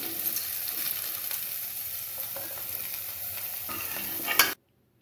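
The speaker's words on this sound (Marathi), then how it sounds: "पनीर सोडून आपण हे 4 जे जिन्नस आहेत ते आपण तेलामध्ये फ्राय करून घेणार आहोत" Vegetables for a mixed veg handi frying in hot oil: a steady, dense sizzle with scattered stirring clinks and scrapes, fairly close and continuous, then cutting off abruptly near the end.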